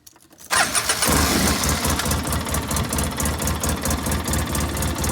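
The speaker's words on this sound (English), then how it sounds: "Running idle, much better, but rich." A rough-running 2005 Polaris Ranger XP 700 engine, running rich with its throttle position sensor disconnected, cranks and catches after a brief quiet moment, then settles into a loud, close, steady, pulsing idle.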